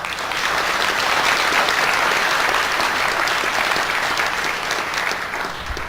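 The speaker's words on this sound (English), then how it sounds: "How about another round of applause?" An audience at an Osan Air Base chiefs recognition ceremony claps in sustained, dense applause that holds steady and then tapers slightly at the end, with no talking over it.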